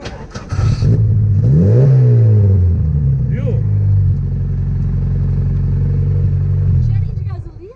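A Chevrolet Chevette's engine is started and revved hard near the listener, rising and falling in loud throaty surges before holding a rough, steady drone that cuts off at the end.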